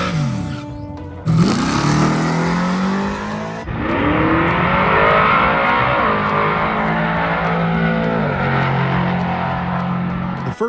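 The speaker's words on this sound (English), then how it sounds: "First pass in the Malibu went down without a single problem" A Chevrolet Malibu street car launches down a drag strip, its engine screaming loud and close through rising gear pulls with sharp shift breaks and a sustained high-revving roar.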